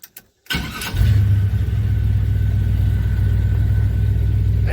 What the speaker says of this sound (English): Did you hear that starter? Man, it sounds so much better.